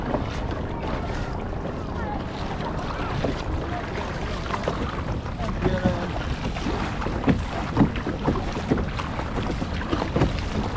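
A kayak paddles on the open sea between Marsaxlokk and Pretty Bay in Malta, with steady water splashing, lapping waves and constant wind rushing over the microphone.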